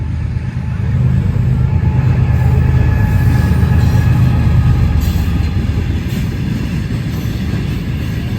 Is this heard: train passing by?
yes